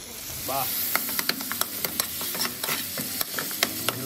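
Ground meat tipped into a pan of sliced fried potatoes sizzles and hisses steadily, with a run of sharp utensil clicks and taps as the mixture is stirred.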